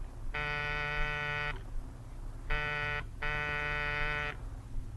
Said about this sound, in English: Buzz the buzzer.